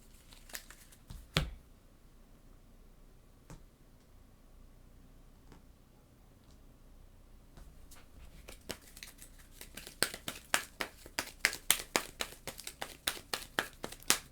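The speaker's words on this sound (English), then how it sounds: "Scheme twists. We're going to shuffle these in." Scheme twist cards being shuffled into a deck for a Marvel Legendary board game, quiet at first with a few isolated taps, then a rapid run of crisp card flicks and riffles toward the end.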